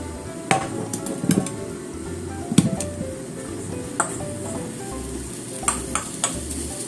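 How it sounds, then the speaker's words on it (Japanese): Daikon mochi dumplings mixed with sesame and salted kelp fry in a pan of oil, a steady soft sizzle under occasional sharp clinks and taps of utensils against the pan. "これをね、団子にして焼きます。"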